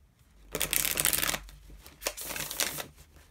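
Tarot cards shuffled by hand in two bursts, a long riffling flutter followed after a short pause by a second, briefer round, close and fairly quiet with no talk.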